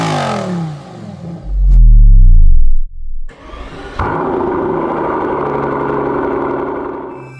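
A 2024–2025 Lamborghini Huracan Sterrato off-road supercar with a V10 engine barks to life, then revs hard in a loud surge, drops, and settles into a steady, rumbling idle close by, with no talking.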